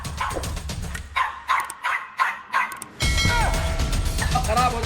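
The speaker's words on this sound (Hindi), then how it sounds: "अब इस नादान पिल्ले को देखो, किसके सामने भौंक रहा है।" A young puppy yaps in a series of short, separated barks at close range, with bursts of background noise and a loud, steady wash of mixed sound taking over midway.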